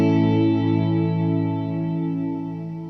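An Encounter ambient delay and reverb pedal on its Swell engine gives a sustained, shimmering wash of layered tones that holds steady and then slowly fades, with no voices.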